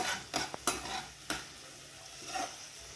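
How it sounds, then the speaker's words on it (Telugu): Green chilies and onions fry lightly in a pan for egg fried rice, a soft sizzle with a few quick utensil scrapes and clinks near the start. "లైట్గా ఫ్రై చేసుకుందాం"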